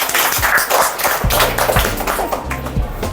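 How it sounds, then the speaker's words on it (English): Scattered hand claps from a school spelling bee audience, sparse and uneven taps rather than full applause, continuing for a few seconds. "Claps for Jaydarsh"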